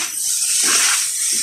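Chicken fried rice sizzles hard in a hot pan, a loud, steady broadband hiss close up, with no voices over it.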